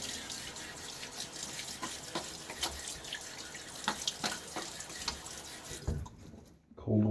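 Cold tap water runs steadily at a sink while a razor and face are rinsed after a shave, with splashing and clinks throughout before the flow stops near the end.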